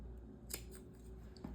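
Scissors trim leftover yarn tails on a small crocheted lemon, with one or two quick, quiet snips close by in a calm room.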